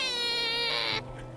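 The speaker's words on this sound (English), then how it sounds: "Why are we meowing?" A cat gives one long, drawn-out meow, loud and close, held for about a second before cutting off abruptly into quiet background.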